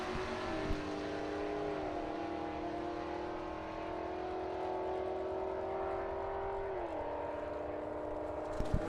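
A purple Chevrolet Camaro and a Pontiac G8 GXP drag race down a quarter-mile strip, their engines droning steadily from a distance, with a rising shift in pitch near the end and no voices.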